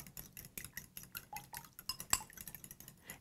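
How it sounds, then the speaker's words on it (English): A utensil whisks a beaten egg into a dipping mixture for baked tilapia, making quick, rhythmic clinks against the bowl, close and fairly soft, with one sharper knock partway through and no voices. "To that, we're going to add 1 beaten egg and mix that all up."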